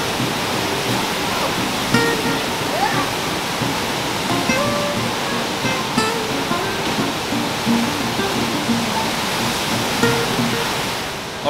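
Rushing water of the icy Eisbach stream in Munich's English Garden pours in a loud, unbroken roar of broadband noise, with a few faint sounds of people nearby.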